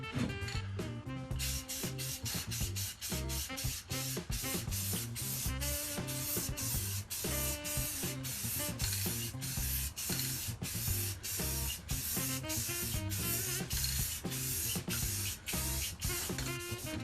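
Matte clear coat being sprayed from a spray-paint can onto a guitar: a continuous close hiss carrying a steady, rapid pulsing rhythm throughout, without pauses or talking.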